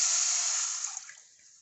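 A cup and a half of water is poured into a pan, a bright splashing gush that quickly tapers off.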